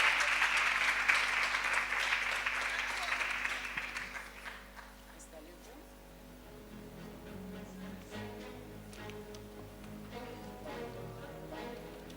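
Audience applause at a Gabonese diaspora women's forum, a loud burst of crowd clapping that fades out after a few seconds, followed by quieter room sounds and a person speaking.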